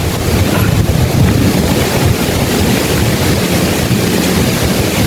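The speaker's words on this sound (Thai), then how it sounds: "ลมลมแรงมากค่ะทุกคน" Strong, cold wind blowing outdoors, a loud continuous roar buffeting the microphone with heavy low rumble and no pauses.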